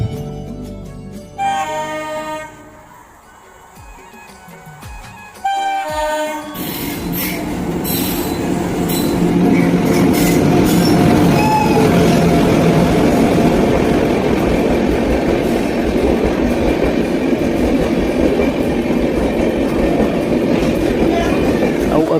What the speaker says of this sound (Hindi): अभी हमन सफ़र करत हन दुर्गपुरी एक्सप्रेस 18426 जे है दुर्ग से डायरेक्ट पुरी के लिए चलते।